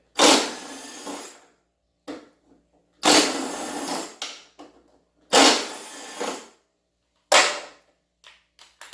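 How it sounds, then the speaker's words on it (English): An impact wrench loosens the half-inch bolts holding the deck spindle on a Cub Cadet LT1045 lawn tractor, with four loud, close bursts of rattling hammering, each about a second long, separated by short pauses. "My deck has 1/2-inch bolts. I'm using an impact."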